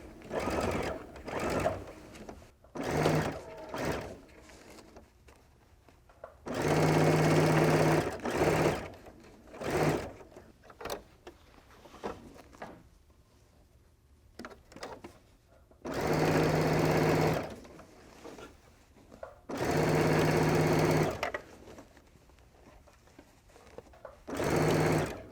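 A domestic sewing machine stitches over gathering lines on an Amy Butler Belle handbag, running in several loud bursts of a few seconds each, separated by quieter stretches of handling and faint movement.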